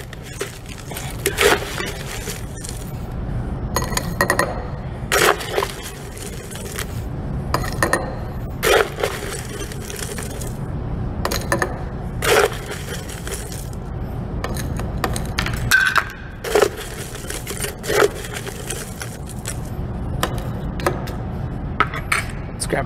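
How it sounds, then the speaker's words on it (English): Crushed ice clatters and clinks into a glass while a caipirinha is built. Scattered sharp chinks and scrapes sound close by over a low background rumble, with no talking. "so let's add some crushed ice."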